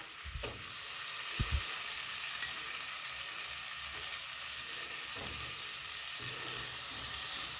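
Finely chopped onion frying in butter with a pinch of asafoetida, a steady broad sizzle throughout with a couple of low thumps early on and the hiss swelling louder near the end.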